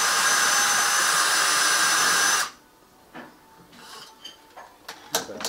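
A diamond-tipped hone tool whirs loudly and steadily while honing the valve guides of a Ferrari 308 cylinder head, then stops abruptly, leaving quiet with a few faint knocks and handling clicks.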